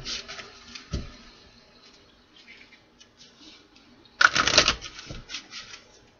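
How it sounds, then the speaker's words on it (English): Tarot cards are shuffled in soft, quick riffles and taps close by, with a louder burst of flicking card noise near the end amid quiet handling sounds. "Let's do a couple more shuffles"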